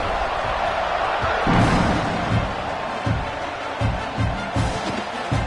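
Stadium crowd noise at kickoff in the video game College Football 26, a steady loud roar of cheering with swelling peaks and thumping impacts throughout.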